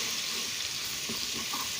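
Minced garlic frying in ghee in a pan, a continuous close sizzle that stays steady and fairly quiet throughout.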